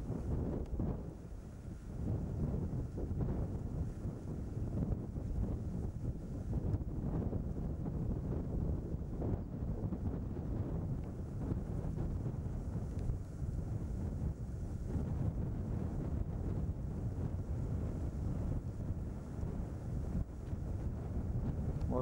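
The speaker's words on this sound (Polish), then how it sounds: "czuć tu wyraźny oceaniczny powiew wiatru" Strong ocean wind blows at the mouth of the Orange River near Alexander Bay, a steady, loud rush buffeting the microphone for the whole stretch, with no one talking.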